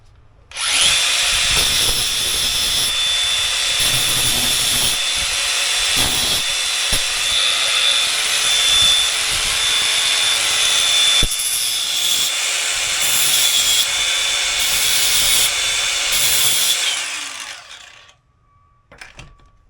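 A power tool grinds grooves into the edges of a C-clip on a Raceworks GZ inverted front coilover strut, a loud sustained whine with brief dips, running steadily about seventeen seconds before winding down.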